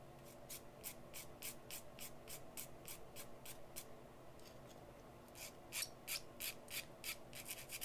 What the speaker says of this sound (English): I'm just going to sand this.